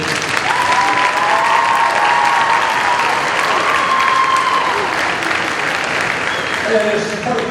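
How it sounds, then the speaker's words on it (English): An audience claps steadily throughout, a dense, sustained round of applause with a few voices rising through it near the end. "A round of applause for that."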